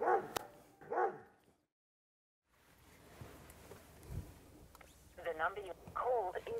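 Two skinny dogs at a property in the Australian outback bark in short bursts near the start and again toward the end, a brief quiet gap between, with low background noise.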